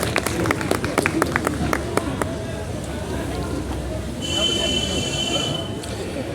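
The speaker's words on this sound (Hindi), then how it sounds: "कोनार्क के लिए तालियां।" An indoor audience at a National Voters' Day event claps in a quick burst of sharp, close hand claps that soon fades into a murmuring hall.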